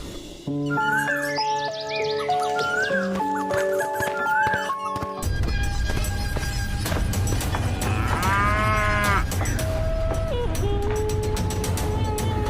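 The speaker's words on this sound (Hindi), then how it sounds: "इसी तरह से गौरी जब भी घास चरकर आती तो रंभाते हुए भगवान को याद करती।" An old cow lows in a long, loud drawn-out moo over a steady rural background, preceded by a chiming melodic bell-like tune, with no talk.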